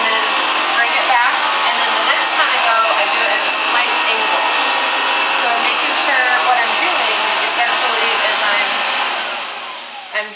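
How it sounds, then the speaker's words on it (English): An upright vacuum cleaner drones loudly and steadily as it cuts straight lines across carpet, a continuous close whine that holds for several seconds before trailing off and cutting out. "I stand in one place, vacuum straight, and then bring it back."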